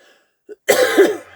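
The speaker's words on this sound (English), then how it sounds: "if I try doing like too much too quickly, I cough like crazy" A single harsh cough bursts out close by after a brief throat sound, then fades, with no speech.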